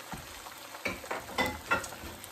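Beaten eggs poured into a very hot, smoking pan sizzle in a few quick crackling bursts, close and fairly quiet, with no talking.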